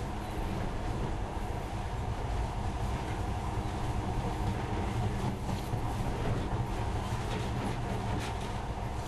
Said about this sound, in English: In the past, trains were ordinary things, but now, this monorail seems magic, doesn't it?